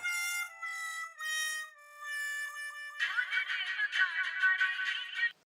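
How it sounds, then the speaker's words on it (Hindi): A phone ringback tone rings out in repeated electronic pulses, then a warbling, chirpy tune takes over, clear and close, in the TV show Taarak Mehta Ka Ooltah Chashmah. "एक मिनट, मैं जेठालाल को फोन लगाता हूँ।"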